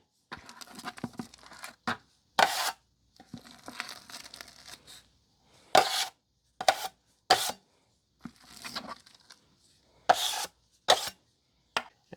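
A putty knife working drywall topping mud in a mud pan, a series of short, close scraping and slapping strokes separated by quiet gaps, alone with no talk.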